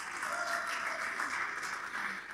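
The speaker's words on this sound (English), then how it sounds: "It's okay to clap." Church audience clapping at a live recorded service, a steady dense wash of applause that stays loud and even throughout with no voices on top.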